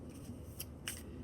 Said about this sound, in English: riffle shuffling like this is really good